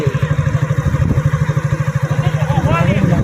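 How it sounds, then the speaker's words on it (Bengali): A motorcycle rides through floodwater from the Katakhal river in Assam, its engine thumping loud and close in a rapid, even pulse while a person talks over it. "এখন আমরা বাইক যাইছো পানি বাই দিয়া"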